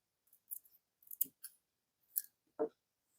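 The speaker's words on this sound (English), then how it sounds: "But before this, let us first cut the tail off." Small scissors snip off a thread tail while making beaded dream catcher earrings, giving a few quiet, crisp, close-up clicks and snips spread over a few seconds, with no voices.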